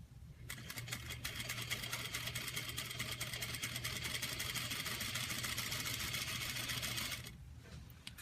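A sewing machine back stitching a dart runs in one continuous fast whirring burst of about seven seconds, close and steady, then stops abruptly.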